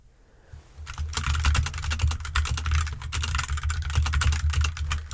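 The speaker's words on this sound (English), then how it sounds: "Why am I still typing stuff down on the record that I'm probably not going to show anyone?" Fingers type rapidly on a computer keyboard with continuous close, crisp key clicks after a brief quiet start.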